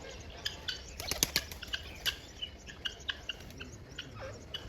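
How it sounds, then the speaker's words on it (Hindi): Pigeons flap their wings in short, sharp bursts of fluttering on a farmhouse, scattered irregularly over a faint hiss of insects and birdsong at moderate distance. "वो ऊपर कबूतर बैठे हुए हैं"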